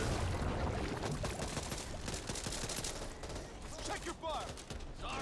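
Rapid bursts of gunfire in a zombie shooter video game, dense and continuous across the clip, with a voice calling out briefly near the end.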